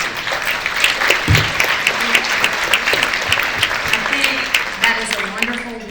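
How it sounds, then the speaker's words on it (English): A round of applause from an awards event audience, many hands clapping in a loud, dense and lively stream that carries on throughout, with faint voices mixed in. "please join me in another round of applause"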